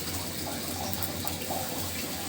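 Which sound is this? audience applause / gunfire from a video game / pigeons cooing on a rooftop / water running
water running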